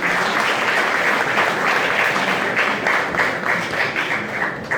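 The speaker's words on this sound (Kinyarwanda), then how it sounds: "tubashimire, tubaha amashyi" An audience gives dense, sustained applause for a speaker at a public address, loud and steady throughout.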